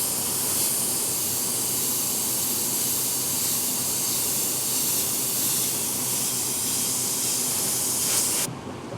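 An airbrush sprays silver paint onto a rattle musky crankbait in a steady, loud, close hiss that holds constant and then cuts off abruptly near the end.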